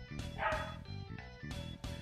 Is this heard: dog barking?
yes